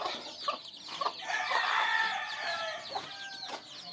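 Native chickens and chicks cluck and chirp in a farmyard, with repeated close clucks, a stretch of busy overlapping calls in the middle and a rooster-like call near the end.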